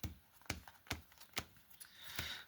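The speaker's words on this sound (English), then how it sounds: "Let me give this a quick shuffle." A deck of playing cards is shuffled close up and quietly, with several sharp riffling snaps and soft ruffles between them.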